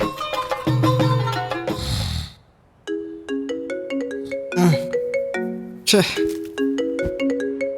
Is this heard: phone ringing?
yes